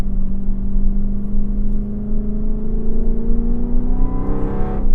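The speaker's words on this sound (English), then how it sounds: "Can't get enough of that exhaust." A Dodge Magnum SRT-8 V8 exhaust drones loud and close, its pitch climbing steadily as the engine revs up, ending in a rising surge.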